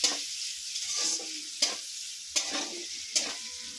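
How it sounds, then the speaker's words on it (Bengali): Chopped onions frying in hot oil in a pan while being stirred, a steady close sizzle broken by several sharp scraping strokes of a spatula, no talking. "পেঁয়াজগুলো দিয়ে দিলাম। দিয়ে হালকা লাল করে ভেজে নেব।"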